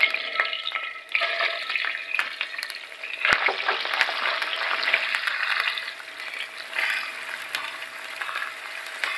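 Cumin seeds and onions dropped into hot oil, a loud, steady crackling sizzle that swells sharply after a few seconds, with faint scraping of a spoon in the pan.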